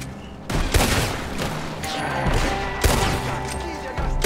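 Rapid gunfire crackles in a Red Dead Online shootout, several sharp reports in quick bursts over a rumbling game soundscape, loud and close, with a player's voice briefly underneath.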